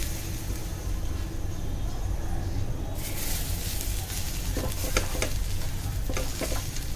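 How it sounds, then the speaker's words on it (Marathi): Fresh coriander and mint are sautéed in a hot pan for Malvani crab masala, giving a steady sizzle with scraping stir strokes growing more pronounced partway through. "साधारण 1 वाटी कोथिंबीर आणि 1 वाटी पुदिना त्याच्यातच आपल्याला परतून घ्यायचं आहे"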